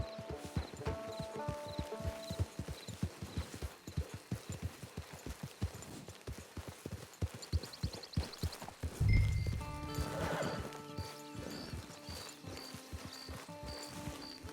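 Rapid, steady clip-clop of trotting horse hooves in Red Dead Redemption 2 Online, over game music, with a brief low thump and swell partway through.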